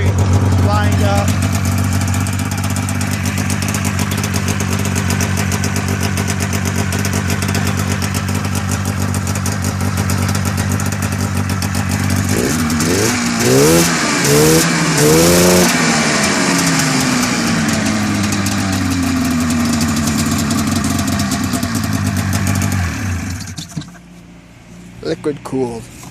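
A Polaris Indy snowmobile's liquid-cooled engine runs loudly and close up, holding a steady buzzing idle with a brief rise in revs near the middle, then cuts out and falls quiet toward the end.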